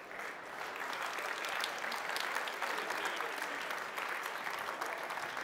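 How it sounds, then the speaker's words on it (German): Steady applause from an audience at an award ceremony for insect-protection prize winners at Grüne Woche in Berlin, dense clapping sustained evenly for several seconds with no break. "Einen Applaus für unsere Preisträger"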